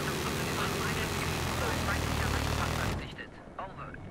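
A jet aircraft roars past in the video game Battlefield 3, a loud, steady broadband engine rush that cuts off sharply after about three seconds, leaving quieter background noise with faint voices.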